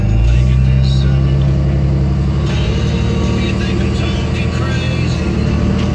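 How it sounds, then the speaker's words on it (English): A 2006 Dodge Ram 3500 Mega Cab 4x4 dually diesel pickup on a highway test drive, its engine giving a steady, loud low rumble from inside the cab with continuous road noise throughout. "We're doing the test drive now."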